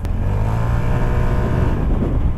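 A 2018 Piaggio Vespa 300cc scooter pulls away in city traffic, its engine droning loud and steady as it accelerates, heard up close from the rider's position without talk.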